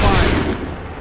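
A massed musket volley in the Assassin's Creed III video game, a heavy, booming burst of overlapping shots that hits at once and rolls off in a fading rumble within a second.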